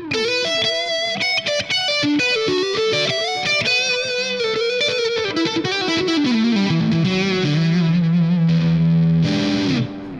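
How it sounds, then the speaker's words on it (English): Electric guitar played through a BOSS JB-2 Angry Driver blues driver set to high gain gives a loud, saturated, continuous riff of fast notes and bends, ending on sustained held tones. "Let's see how gainy we can get this blues driver to go"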